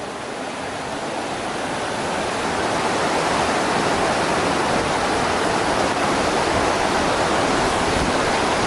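Loud, steady rush of fast-flowing water in a creek flooded by heavy rains, a continuous broadband roar that swells slightly early on and holds without any break.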